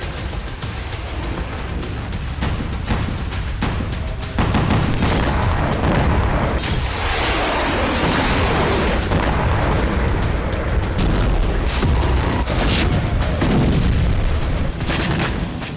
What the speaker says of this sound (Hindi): लेबनान की तरफ से माउंट मेरॉन पर इतनी जबरदस्त एयर स्ट्राइक की, जिससे पूरा एयरबेस तबाह हो गया।